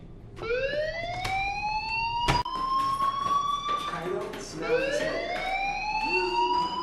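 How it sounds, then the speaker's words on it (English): Fire alarm sounding in the video game Life Is Strange, a wailing siren-like tone sweeping upward in repeated rising whoops, loud and continuous, with background speech and game sounds mixed underneath. "do you hear that fire alarm?"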